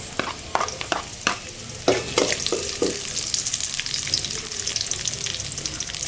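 Green chillies drop into a hot frying pan for khichuri at a food stall, with a few sharp clatters and stirring over a loud, continuous close sizzle.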